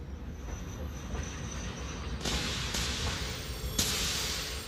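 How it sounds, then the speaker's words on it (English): Trains run on rails in the Satisfactory video game, crowding at the end of a route beside a double siding: a steady rolling rumble with hissing bursts and sharp metallic clicks around the middle and near the end. "It's too many trains collecting at the end of the route."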